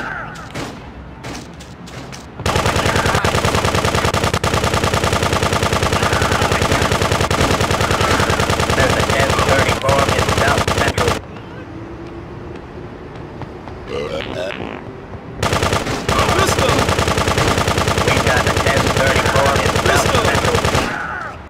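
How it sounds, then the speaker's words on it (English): GTA 2 machine gun fire, long loud sustained automatic bursts in two stretches of several seconds each, separated by a quieter gap with game sounds and a voice. "Remember, machine gun!"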